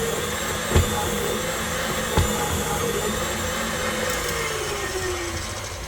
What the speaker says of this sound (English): I think I may go ahead and whisk it.